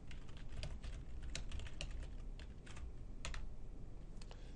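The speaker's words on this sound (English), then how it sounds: "I will type Test File for Lesson." Someone types an email subject line on a computer keyboard, producing a faint, steady run of quick key clicks with no voices.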